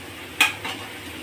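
Cauliflower pieces being turned in a frying pan, a faint quiet scrape of a spoon with one brief clink near the start and a softer stir after, over a low background hiss.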